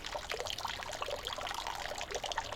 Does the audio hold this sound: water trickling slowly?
yes